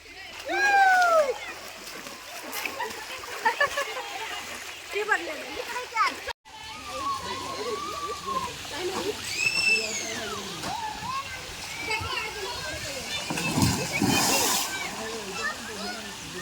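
Water splashes and sprays continuously from water park showers beneath excited shouting and children's squeals, a lively, crowded scene with voices calling out over the rushing water.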